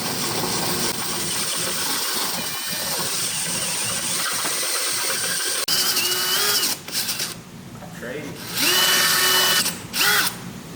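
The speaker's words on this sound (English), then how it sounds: "I can come back with a 7/16 and just slowly start drilling it" A power drill fitted with a 7/16 bit bores slowly into the unibody of a Jeep Cherokee XJ, grinding loud and close with a steady whine, then stops and restarts in short bursts toward the end.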